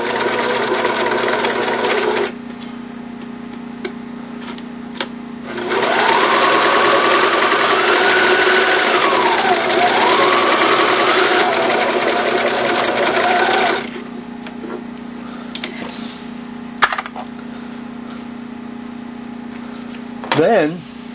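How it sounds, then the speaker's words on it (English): Sewing machine laying a line of stitches along a folded fabric hem, two long steady runs with a hum and brief pauses, loud and close, a voice speaking briefly between runs. "Get it set up in the presser foot. And then lay down a line of stitches."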